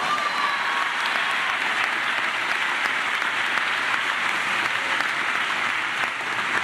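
A large audience at a university convocation claps steadily and loudly, a dense, even wash of applause with no talk over it.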